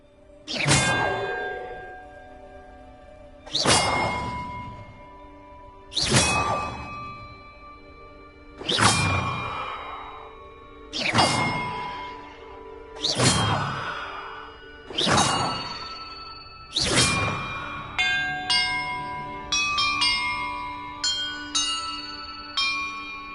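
Bells in a Hogwarts Legacy puzzle ring one at a time, about seven spaced, resonant strikes with long ringing decays, then a quicker run of lighter chimes at the end, with no one talking.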